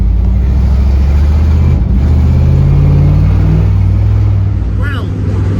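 A car engine with a freshly fixed exhaust hums and revs steadily up close, a loud continuous drone swelling in the middle and easing near the end, with a voice talking over it.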